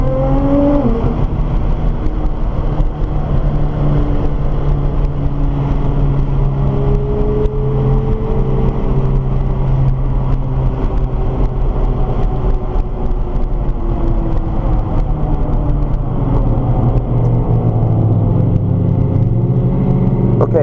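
A Nissan GTR on a race track, heard from inside as a loud, steady engine drone with rising and falling tones through gear changes and acceleration, with no voices.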